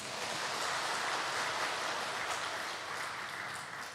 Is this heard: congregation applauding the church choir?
yes